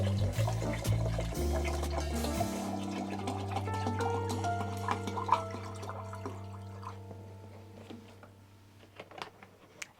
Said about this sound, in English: watering can here with this fertilizer water.